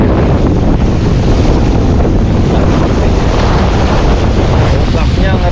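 Strong surf of the Red Sea at Jeddah rolls in loud and close, a continuous roar of breaking waves mixed with heavy wind buffeting the microphone.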